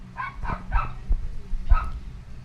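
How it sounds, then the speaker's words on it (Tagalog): A dog barks and yips in a short series of about four sharp, fairly close barks with whimpery edges, over a low background hum, in a toy store setting. "sorry po kung maingay yung aso"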